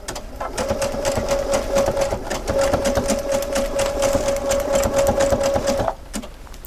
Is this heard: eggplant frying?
no